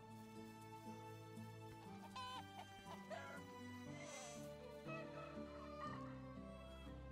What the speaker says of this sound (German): Jetzt schauen wir bei den Hühnern vorbei.